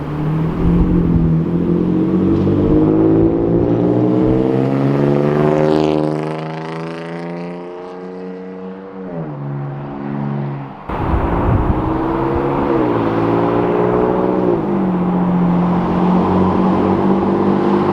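A 2016-2023 Toyota Tacoma with a Carven cat-back exhaust and aftermarket intake revs up to about 6,000 RPM. The engine climbs in pitch, drops back, then revs again, loud and close.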